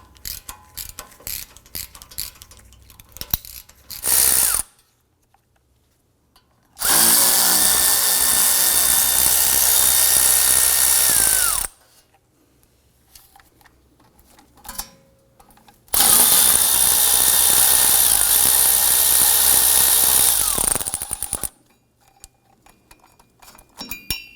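A power tool removes 8mm dust shield screws on a 2015-2020 Ford F-150 during front wheel bearing work, whirring loudly in two long bursts of several seconds each, with ratcheting clicks and quiet gaps between them.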